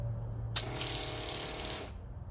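Water from a 12v pump gushes steadily into a container, starting abruptly and running as a loud, even splashing stream for over a second before cutting off.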